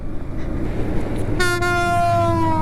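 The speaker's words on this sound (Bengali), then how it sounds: "ট্রেন চলে আসছে" A train approaching on a rail line near the road toward the Jamuna bridge, a rumbling running noise joined midway by a loud, sustained horn blast that holds to the end.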